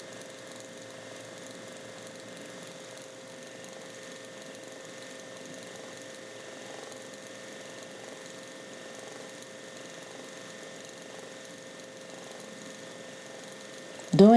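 A sewing machine runs steadily throughout, a soft continuous mechanical whir with a faint rhythmic ratcheting while thread-sketching stitches over earlier stitch lines, closing on a brief louder clunk.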